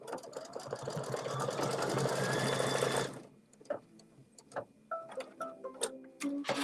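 An embroidery machine stitches a design with a steady, fast mechanical whirring hum for about three seconds, then stops, leaving scattered soft clicks and small handling taps nearby.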